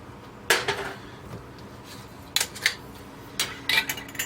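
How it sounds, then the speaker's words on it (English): Metal lids and screw rings clinking onto hot glass canning jars of home-canned biscuits, three short bright clatters spaced about a second apart, close and moderately loud with no talking. "you want to immediately get your lid and your ring on"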